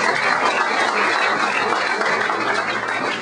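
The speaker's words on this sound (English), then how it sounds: "another round of applause for our fire" Dense, steady applause from an audience at a business meeting honoring the city fire department, loud and continuous with no talking over it.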